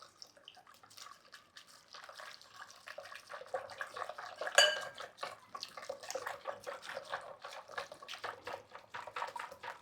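Chiffon cake batter is whisked briskly in a bowl while flavourless oil is poured in, a quiet, steady rhythmic clatter of whisk against bowl with a faint liquid splash, no voices over it.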